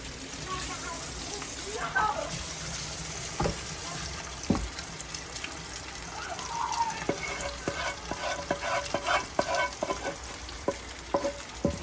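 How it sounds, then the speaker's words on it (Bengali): Food frying in a pan at home, a steady sizzle with scattered clicks and scrapes of stirring, while people talk over it now and then. "যে সুন্দর করে আজকে ফ্রাই করছি, সময় লাগায় করছি"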